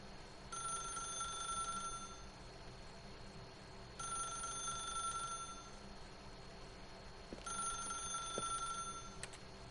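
A telephone rings in the video game The Stanley Parable, three evenly spaced, bright trilling rings over a quiet ambient hum.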